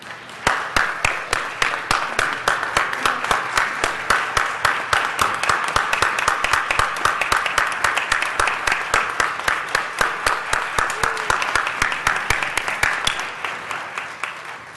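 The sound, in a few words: gallery applause at city council meeting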